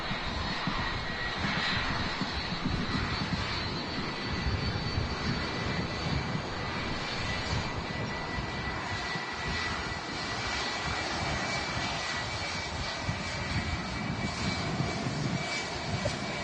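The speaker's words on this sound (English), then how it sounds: "Jet 2 757 on the taxi out to Antalya." A Jet2 Boeing 757 taxis out at Manchester Airport, its jet engines holding a loud, steady whine and rumble without a break.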